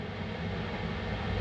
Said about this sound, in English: Lift off of Antares